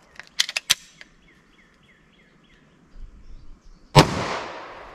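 A 10mm pistol with a long 5.3-inch barrel fires during a ballistic test: three sharp shots come in quick succession, then a single louder shot rings out with a short decay. Faint electronic chirps sound between them.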